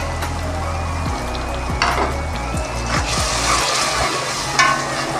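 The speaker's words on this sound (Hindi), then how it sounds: "1 से 2 मिनट सिर्फ इसको भूनेंगे।" Tomato paste with green chillies frying in a pan for aloo palak, a steady close sizzle with a few scraping stirs of a spoon against the pan.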